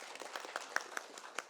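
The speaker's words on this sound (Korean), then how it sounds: "박수 좀 부탁드립니다." A small audience at a policy conference claps faintly in a brief, sparse patter for the presenters, with individual claps standing out.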